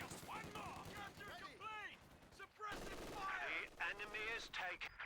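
MG42 machine gun fire rattles in a Company of Heroes 2 match, quick bursts of gunfire in the background mixed with explosions while a commentator talks excitedly over it.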